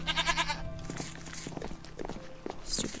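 A Minecraft goat gives a short, nasal, wavering bleat at the start, followed by soft game sounds and light steps.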